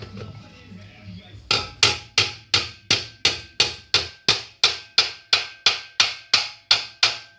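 A hammer taps on the muffler of an IZh-49 motorcycle under restoration: after a quiet start, about eighteen sharp metallic strikes land in a steady even rhythm, close and loud, each ringing briefly.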